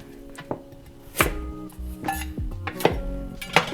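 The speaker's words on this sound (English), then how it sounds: "remove the top and bottom of the" A knife chops carrots sharply on a board several times, uneven single cuts with light clinks of kitchenware between them, close up and without talk.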